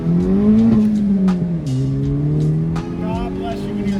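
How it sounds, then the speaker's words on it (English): Honda S2000 engine droning loudly up through the revs during a hard acceleration pull, heard from inside the car, with a steady rising note that drops briefly at a gear change, with faint voices underneath. "Let's go do a pull."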